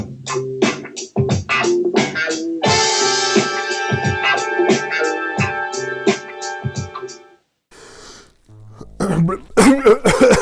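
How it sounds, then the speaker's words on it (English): A run of harsh coughs and throat clearing sounds close up, broken by a brief pause, with more coughing bursts at the end. "Get all those coughs out."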